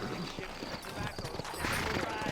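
Horse hooves clip-clop in a steady trotting rhythm in the video game Red Dead Redemption, mixed with faint game ambience and a voice.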